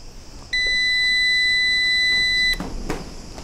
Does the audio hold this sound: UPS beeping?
yes